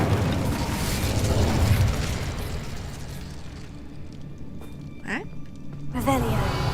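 Incendio fire spell cast in Hogwarts Legacy bursts in a roaring, crackling blast that fades over a few seconds, followed by a brief clatter and a spoken voice.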